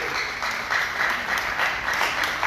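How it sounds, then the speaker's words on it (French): Steady applause from an audience greets Ronald Jean-Louis, deputy general coordinator, at a Catholic youth gathering of the Archdiocese of Port-au-Prince, a dense continuous clatter of many hands lasting a couple of seconds with no voices. "Sous vos applaudissements, s'il vous plaît."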